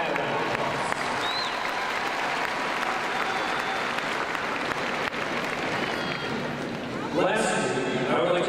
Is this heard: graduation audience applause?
yes